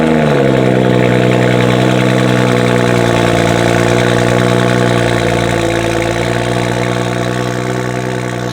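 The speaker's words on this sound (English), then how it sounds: "This is just the cold start." A BMW 435i with VRSF catless downpipes cold-starts into a loud, droning high idle, its raspy exhaust tone holding steady and easing slightly lower over several seconds.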